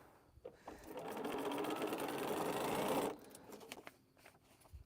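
A sewing machine stitches quilt fabric in one continuous run of rapid, even whirring lasting about two seconds, fairly close but soft, followed by faint handling noises.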